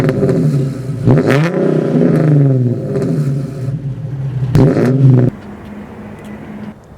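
Nissan 370Z with non-resonated short tail exhaust revving hard in two close, loud bursts, each climbing and falling back, then settling into a rumbling idle.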